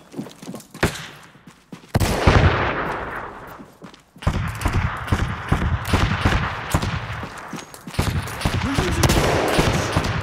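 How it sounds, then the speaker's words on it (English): Gunfire in the tactical shooter Ready Or Not, loud bursts of rapid automatic shots and sharp single cracks that come in several clusters separated by brief lulls, close and aggressive over about ten seconds. "Did I shoot through doors?"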